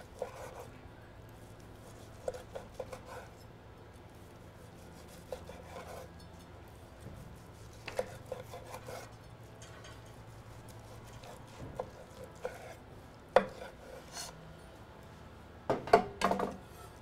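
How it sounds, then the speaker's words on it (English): A knife cuts grilled tri-tip against the grain into thin slices on a board, making faint, scattered scraping strokes and soft taps with quiet gaps between them. "we're going to cut against the grain, nice thin slices"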